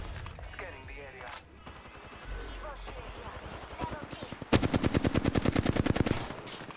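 Rapid automatic gunfire in a video game hits the player, at first scattered beneath someone talking, then a loud, fast run of evenly spaced shots for the last couple of seconds.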